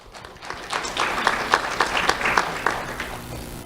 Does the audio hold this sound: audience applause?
yes